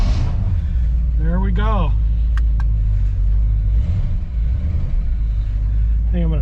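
A 1959 Chevy 348 V8 gives a cold start, with cranking and a catch at the start, then settles into a loud, steady, deep idle rumble close by. Someone speaks briefly over it.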